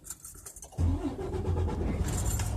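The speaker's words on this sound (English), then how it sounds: "Alright, now I'm going to start my truck" A truck engine cranks and catches, jumping abruptly from quiet to a steady loud idle rumble that settles and holds.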